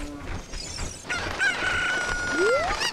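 A cucco in a Legend of Zelda game in Kakariko Village lets out a clear, synthesized rooster crow with rising squawks, loud and close, with no voices over it.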